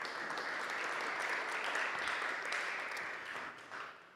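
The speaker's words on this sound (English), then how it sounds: "Let's give him a round of applause." Audience applause for a panel speaker at a Web3 industry conference, a dense, steady wash of clapping that holds for about four seconds before thinning slightly at the end.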